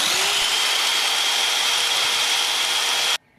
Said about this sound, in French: Une scie circulaire de 1300 watts.